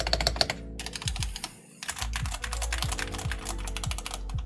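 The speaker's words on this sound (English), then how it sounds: "I'm pretty sure the keyboard even sounds better without a case at all than with that." Homemade wooden keyboard with no case being typed on, a rapid run of crisp, close keystroke clacks with a brief pause midway, loud and alone.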